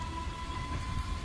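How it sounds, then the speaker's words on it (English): A train rolls past with a steady low rumble and a sustained tonal hum from the wheels on the rails. The sound is continuous and fairly close, and no one speaks. "Watching the train go down the thing is awesome."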